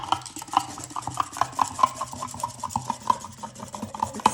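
Bamboo whisk frothing matcha tea in a flat-bottomed bowl, a quick steady scratchy swishing with rhythmic rasping strokes, close and fairly quiet with no talking.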